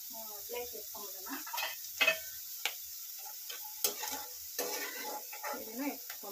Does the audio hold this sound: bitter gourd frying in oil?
yes